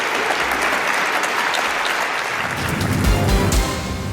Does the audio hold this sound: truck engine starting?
no